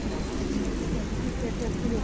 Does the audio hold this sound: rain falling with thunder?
yes